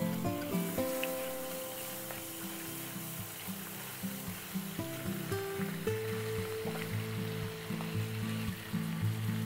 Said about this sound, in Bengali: আলু কুমড়োটা ভাজা ভাজা হবে, একটু ফ্রাইড হোক